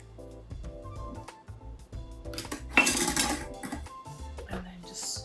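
Spoon stirring sugar into strawberry rhubarb sauce in a pot, with repeated close clinks and scrapes of metal on cookware, one louder clattering burst midway.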